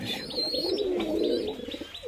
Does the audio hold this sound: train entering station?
no